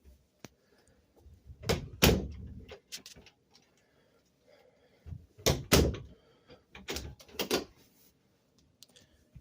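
A door, just repaired so it no longer creaks, is opened and closed in several separate bursts of knocks and latch clicks, with quiet gaps between.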